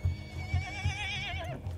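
A horse in Battlefield 1 whinnies in one long wavering call, with rhythmic low thumps like hoofbeats underneath throughout.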